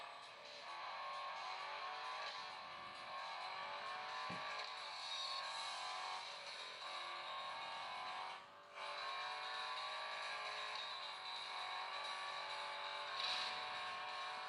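Racing car engine in the mobile game Real Racing 3, a faint continuous whine rising and falling through gear changes over about fifteen seconds, with one short dip in the middle and no talk.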